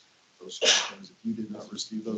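A single sharp sneeze bursts out near the microphone in a meeting room, cutting into a man's ongoing speech.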